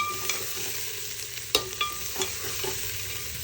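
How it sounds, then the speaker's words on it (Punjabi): Onions fry in oil in a pan while a ladle stirs them, giving a steady sizzle broken by several sharp scraping clinks of the spoon against the pan, close and with no talking. "ਸਾਰੇ ਪਿਆਜ਼ ਪਾ ਦੇਣੇ ਨੇ ਪਿਆਜ਼ ਨੂੰ ਚੰਗੇ ਤਰੀਕੇ ਨਾਲ ਭੁੰਨ ਲਾਂਗੇ"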